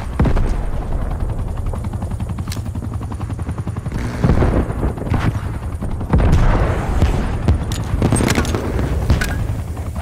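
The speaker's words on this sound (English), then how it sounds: "Hostile attack helicopter inbound." An attack helicopter's rotor thrums through a Call of Duty match on the Nuketown 84 map, with bursts of gunfire and booms cutting across it.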